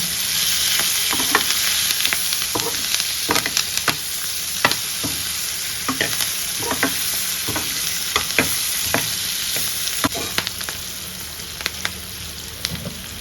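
A spoon stirs cumin powder through tomato pulao in a hot pan, a continuous sizzle broken by frequent scraping and knocking strokes at a steady, busy rhythm.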